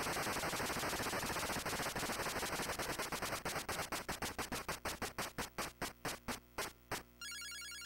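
A prize wheel in a word-puzzle game spins, starting as a rapid, dense rattle of clicks that gradually slows into distinct, spaced ticks before stopping, followed by a short bright chime.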